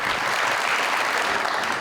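A television studio audience applauds on a Pakistani talk show, a steady, dense wash of clapping that fills the whole short stretch without pause.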